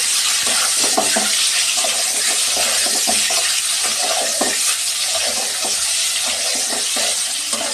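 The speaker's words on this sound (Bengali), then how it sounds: "ডিমগুলো ভালো করে ভেজে নিব।" Eggs fry in hot oil with turmeric in a pan, a constant close sizzle broken by soft stirring clinks and scrapes, with no talking.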